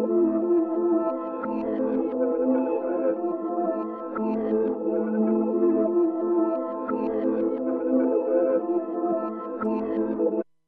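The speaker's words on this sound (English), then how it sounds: "I reversed it all and sounded like this." A reversed dark vintage music sample plays steadily with swelling, backward-sounding sustained tones that repeat in a slow looping pattern, alone and at even loudness until it cuts off.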